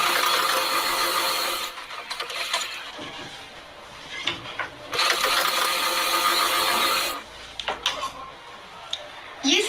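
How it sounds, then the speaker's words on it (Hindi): A sewing machine stitches a seam on a salwar pajama in two long runs of steady, fast mechanical whirring. Short pauses between the runs hold small clicks and handling noises. "अब यहाँ पर भी हम करीब 1 पैर का मार्जिन लेते हुए सिलाई लगाएंगे"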